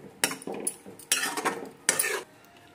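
Utensil scraping and clinking against a pan while paneer butter masala is stirred, three short bursts of metallic scraping close up, no talk.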